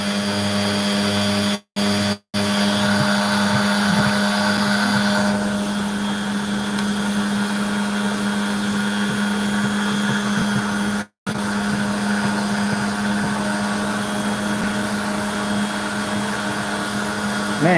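An opal cutting machine running steadily with a loud constant whirring hum, broken by a few abrupt brief dropouts.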